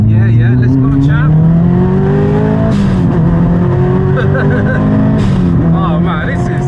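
A 400 hp Subaru Impreza STI Spec C engine revs on a rev-matched downshift to second gear. The loud, close engine tone rises, then blips and climbs again, with people talking over it.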